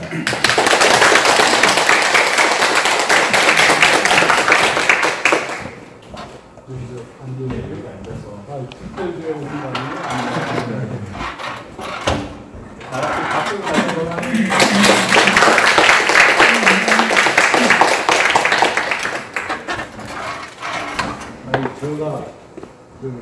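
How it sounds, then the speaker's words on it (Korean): An audience in a lecture hall applauds to welcome a professor. Two sustained bursts of loud, dense clapping are separated by a stretch where a person speaks. "저희 다 같이 큰 박수로 양도환 교수님 초대하겠습니다."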